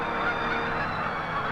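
Canada geese honk continuously in flight, a dense chorus of overlapping calls heading toward a wildlife sanctuary, loud and steady throughout.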